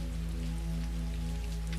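Steady rain falls in a garden, a soft, even patter of drops over a constant low hum, with no voices.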